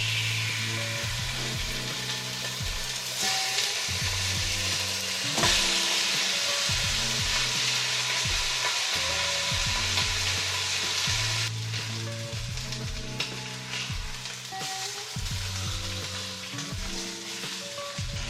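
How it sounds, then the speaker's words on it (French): Lamb for a tagine browns in a little oil at the bottom of a cooking pot, giving a loud, steady sizzle and crackle, with occasional scraping and knocking from stirring and no talking. "on commence par faire revenir la viande dans le fond du faitout avec un peu d'huile"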